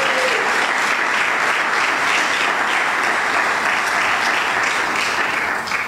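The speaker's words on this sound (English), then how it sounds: "A round of applause for Ms." Sustained applause from a seminar audience welcoming Aruba's first female minister president, Evelyn Wever-Cruz; dense, steady clapping fills the room at even loudness throughout, with no voices over it.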